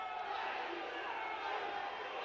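Football crowd at a cup semi-final roars in a sustained, fairly distant wash of voices appealing for a foul after a push in the back, steady throughout with no clear single shouts.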